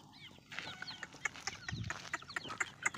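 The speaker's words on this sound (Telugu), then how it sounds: "ఇవన్నీ మా కోడి పిల్లలు. ఆర్ఆర్ ఫార్మ్స్లో ఆర్గానిక్గా పెరిగే నాటుకోళ్ళు" Organic native country chickens and chicks on a farm shed floor cluck and peep in a busy, overlapping chorus of short calls, close and moderately loud, with no talking.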